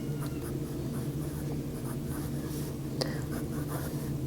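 A Sheaffer Prelude fountain pen with a wet medium nib writing on paper: faint, close scratching strokes over a constant low hum, with one sharper tick near the end.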